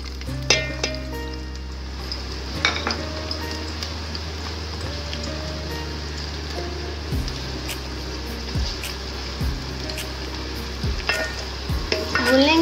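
Onions frying in oil in a pan while cooking Hyderabadi stuffed achari bhindi, a steady close sizzle with stirring scrapes and clinks throughout, no talking.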